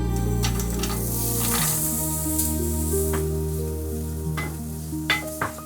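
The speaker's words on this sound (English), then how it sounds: "we're going to saute some onions for about 3 to 5 minutes until nice and soft" Onions sauteing in melted fat in a pan make a steady close sizzle with a low background hum and a few sharp spatters or clinks near the end.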